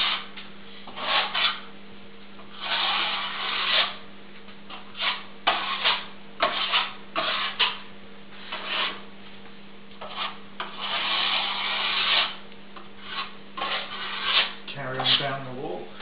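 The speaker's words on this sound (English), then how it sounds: "now I'm just going to drag the trowel down the wall" A steel trowel is dragged down a freshly skimmed plasterboard wall in repeated scraping, rubbing strokes of uneven length, fairly close, over a steady low electrical hum, with no talking.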